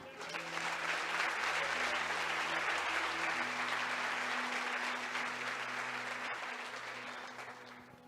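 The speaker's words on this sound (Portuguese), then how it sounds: "Vamos aplaudir o Senhor" A church congregation applauds during a bishop's sermon, a broad, sustained clapping roar that fills the room for several seconds, with a low steady tone humming underneath before it gradually eases.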